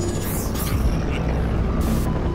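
Helicopter in the video game They Are Here, a continuous low rotor drone and rumble with faint higher whirring, close and steady without talk.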